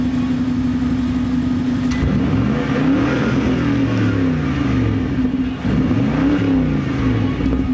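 A 2015 BMW X6 V8 engine is revved at standstill, with loud, close blips rising and falling over a steady idle, repeated several times.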